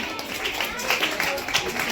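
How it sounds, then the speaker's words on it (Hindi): Audience applause at a school Education Day and Urdu Day event at GUMPS No. 6 in Jamkhandi: a steady, dense patter of many hands, moderately loud and continuous for the whole stretch. "तो भरपूर तालियों से इनका इस्तकबाल किया जाए।"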